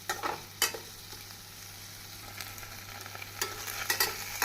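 Continuous sizzle of onions frying with ginger garlic paste in a pan, broken by scraping stirs of a spoon against the pan.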